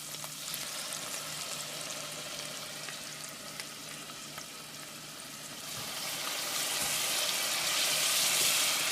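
Garlic sautéing in a pan with onions and roasted red peppers, a steady close sizzle that swells louder toward the end, with faint stirring scrapes.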